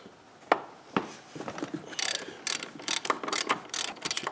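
A ratchet socket wrench loosens the fill plug on an Arctic Cat Diamond Drive gearcase, giving close, crisp clicking in irregular bursts that quicken into rapid ratcheting runs toward the end.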